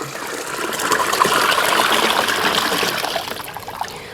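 Water pours into a tub set out in the sun for hydro dipping, a steady close splashing gush that swells and holds for several seconds before easing off.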